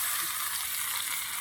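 Marinated chicken meat added to browned fried onions in a pan, giving a bright, continuous sizzle and crackle of frying, close and steady with no talk.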